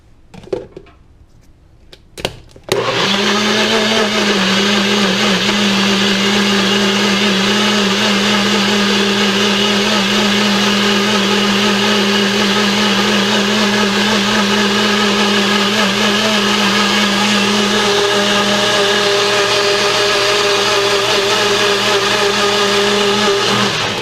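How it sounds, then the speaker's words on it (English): A Magic Bullet blender whirs loudly and steadily as it blends a sofrito sauce base for ropa vieja, a constant high motor drone that starts abruptly after a few clicks and runs alone to the end. "I'm going to put this in our beautiful little tool, the Magic Bullet. Blend that up"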